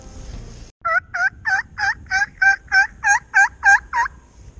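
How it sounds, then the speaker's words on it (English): A wild turkey gobbler gobbles in the woods, a loud rapid burst of about twelve rattling pulses in an even rhythm, heard clearly on its own with no talking. "So we're hearing the gobbler right now."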